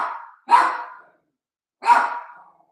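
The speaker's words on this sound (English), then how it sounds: "So, like dogs do, they hear something and they bark." A dog barks indoors after hearing a package delivered at the door: two loud, close barks about a second and a half apart, with no talking.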